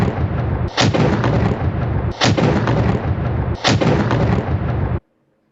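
A black powder cannon fires three loud, booming blasts about 1.4 seconds apart, each followed by a rolling roar, ending abruptly in silence.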